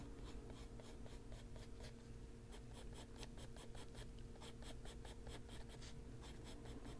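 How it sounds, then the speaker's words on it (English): Soft, close scratching of a colored pencil shading an adult coloring book page of an Afghan hound, with rapid repeated strokes in short bursts over a faint steady hum. "We'll be coloring those in a little darker down here."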